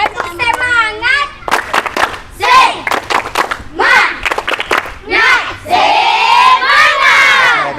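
Schoolchildren in a classroom do a rhythmic spirit clap chant, a crowd of young voices shouting together in time with claps, loud and close, led by an adult voice.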